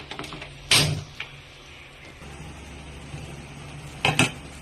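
Marinated food is flipped and stirred in a pan on a stove, with two distinct clattering bursts of utensil against metal separated by a quieter stretch of low background hum.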